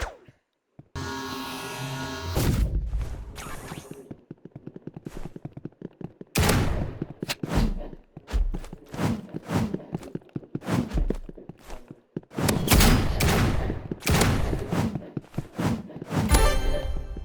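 Gunblade fire in the Roblox game Rivals comes as sharp bursts and clusters of shots separated by brief pauses, loud and close, mixed with footstep-like clatter and no talking.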